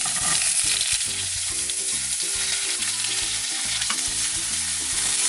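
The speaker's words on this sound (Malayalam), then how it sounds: "ഇനി അതിലേക്ക് നമ്മൾ ചോപ്പ് ചെയ്ത് വെച്ചിട്ടുള്ള സവോള, ഒരു മീഡിയം സൈസ് സവോളയാണ് എടുത്തിരിക്കുന്നത്, അതിട്ട് കൊടുക്കാം." Chopped medium onion hits hot oil already holding cinnamon and cloves, giving a loud, steady close-up sizzle with occasional stirring over soft background music and no voices.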